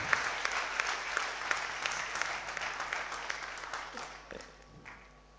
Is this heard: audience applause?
yes